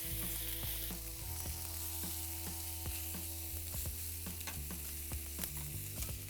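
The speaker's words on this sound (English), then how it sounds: "it's now time to flip our lamb lollipops" Lamb lollipops sizzle on cast iron over a Kamado Joe grill, a dense continuous crackle and hiss dotted with frequent sharp pops, loud and close throughout.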